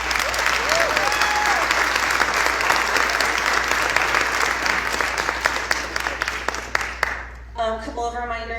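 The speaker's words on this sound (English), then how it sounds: "So a round of applause for them." Audience at a school Expressions Night applauding students, a loud, dense, sustained wash of clapping that tapers into scattered claps and then gives way to a voice speaking.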